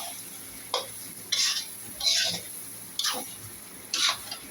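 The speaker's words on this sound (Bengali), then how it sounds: "পেঁয়াজটা আমার ভালো করে ভাজা ভাজি হোক" Chopped onions fry in oil for a Bangladeshi dark chicken bhuna while a spatula stirs them, making about five separate scraping, sizzling strokes over a soft steady background hiss.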